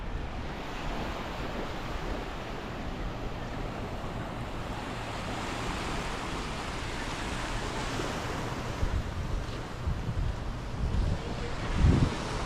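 Sea waves wash and roll continuously onto a quiet beach at La Jolla in Bagac, Bataan, a steady broadband surf with wind noise and a few low bumps near the end.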